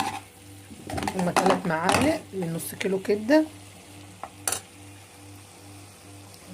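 Oil sizzles steadily in a pan as garlic and liver fry, with a person talking over the crackle through the first half.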